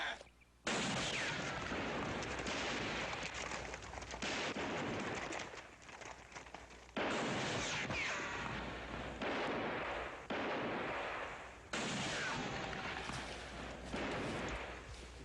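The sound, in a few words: gunfire in western TV show Bonanza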